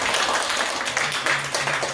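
An audience at an outdoor candlelight gathering applauds briefly, producing a dense patter of many hands clapping at moderate volume for about two seconds.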